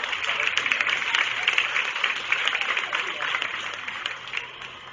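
Crowd applause at a county fair goat show as exhibitors lead their goats out of the ring, a steady patter of many hands, moderately loud and slightly distant, fading toward the end.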